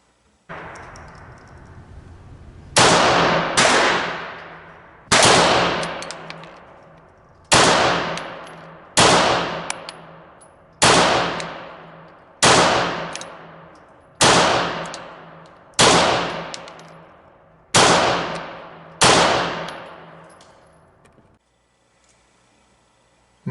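Ten unsuppressed pistol shots from a Glock 17 Gen 5 fitted with a Rival Arms threaded barrel, loud sharp reports spaced roughly two seconds apart, each ringing out and decaying before the next.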